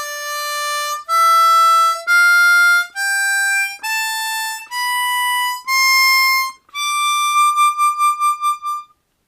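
Ascending D Dorian scale on a C diatonic harmonica starting from draw 4, clear sustained single notes stepping upward, ending with a pulsing, fluttered top note.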